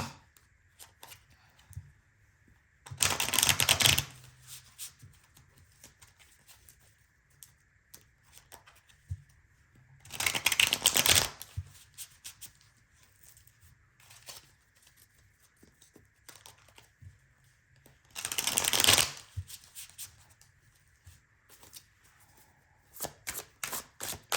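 Oracle cards are shuffled in three separate bursts, each a quick close papery riffle lasting about a second, with long quiet gaps and a faint background hum between them.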